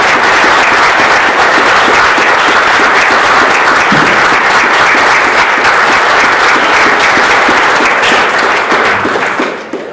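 Loud, sustained applause from a conference audience at the closing of the international Tepny domu 2016 conference, dense steady clapping filling the whole stretch before tapering off at the very end.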